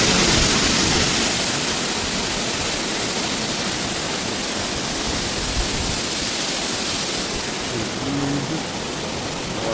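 Water rushes out through opened gates on the Musi river, a dense, loud, unbroken roar that holds steady throughout with no voices.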